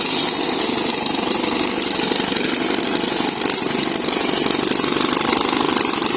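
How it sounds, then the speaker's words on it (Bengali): A road-digging machine breaks up the street for a water pipe, a loud continuous rapid hammering rattle with engine drone, steady and close throughout with no voices. "মেশিন দিয়ে রাস্তা খুঁড়ছে।"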